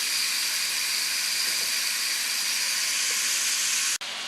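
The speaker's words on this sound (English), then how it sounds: "the meat's still browning up right now" Beef browns in a hot pan for stroganoff, giving a steady, close sizzling hiss that holds level throughout and stops with a brief drop near the end, with no talk.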